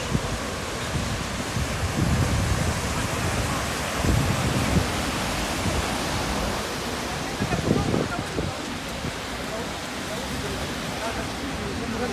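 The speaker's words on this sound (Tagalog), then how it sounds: "Kita nyo yan, yung baha o." A constant broadband rush of flood water roars throughout after rain in Dubai, steady and enveloping, with occasional bumps and faint voices beneath the noise.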